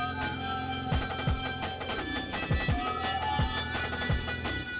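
Distorted, bit-crushed FL Studio drums play a dense electronic pattern with booming kicks that drop in pitch, gritty crunchy texture over sustained tones, loud and continuous with no voice.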